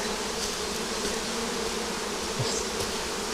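Dense, steady buzzing of many honeybees close by at a hive with smoke applied, a continuous drone with occasional individual insects passing nearer.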